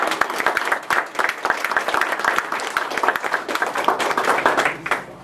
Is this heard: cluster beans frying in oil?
no